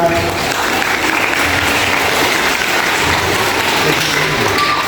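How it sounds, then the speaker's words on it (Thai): An audience at a school scholarship-giving event applauds steadily and loudly throughout, a dense wash of clapping from a crowd. "ขอเสียงปรบมือด้วยครับ"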